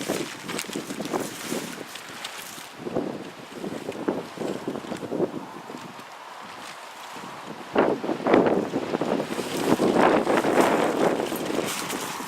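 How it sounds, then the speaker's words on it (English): Strong wind gusts buffeting the microphone in a steady roar that swells and fades, louder toward the end, with no voices. "It is very windy today."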